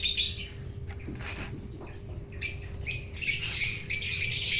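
Fischer's lovebird chicks, a blue parblue Fischer's lovebird among them, give bursts of high squawking chirps, scattered at first and then a busier run of calls toward the end, close by.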